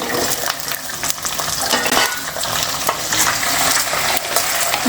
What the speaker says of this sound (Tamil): வெங்காயம் பூண்டு நல்லா வதங்கிருச்சு